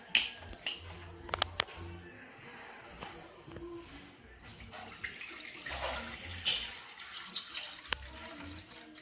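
Water pours into a food processor bowl for a carrot, courgette and goat cheese cake, a soft splashing trickle with a few clunks, close and quiet under occasional indoor sounds.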